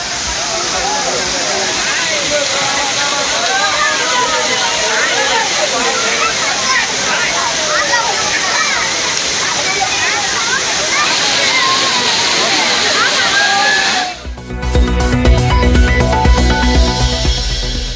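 Water tumbling down the Papanasam Agasthiyar waterfalls, a steady, loud broadband rush with voices of a crowd of visitors mixed into it, then cutting abruptly to a different busy scene near the end.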